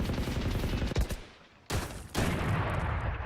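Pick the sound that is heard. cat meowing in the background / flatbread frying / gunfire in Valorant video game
gunfire in Valorant video game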